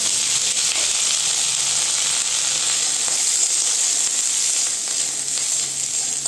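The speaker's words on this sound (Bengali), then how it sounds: "এই যে কড়াইতে আমি সরষের তেল দিয়ে দিয়েছি, অল্পটুকু গরম হয়ে গেছে। এর মধ্যে আমি দিয়ে দেবো এই যে কেটে রাখা পটলগুলো।" Chopped pointed gourd sizzles in hot mustard oil in a kadai, making a loud, even hiss that runs unbroken for several seconds with a few faint clicks and no voices.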